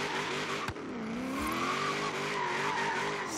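A V8-swapped Honda NSX drifting in Forza Horizon 3, its engine revving in sweeping pitch changes while the tires squeal continuously, with a sharp thump early on.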